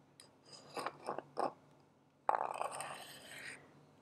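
A wooden salt grinder filled with pink Himalayan salt is handled up close, giving a few soft grinding rasps followed by a longer crunchy grinding burst, quiet and intimate.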